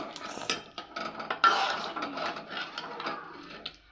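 Clattering metal and utensil knocks in a pot where chhechra with soybean, potato and eggplant is cooking, a steady run of close scrapes and taps with brief louder clanks, no talking.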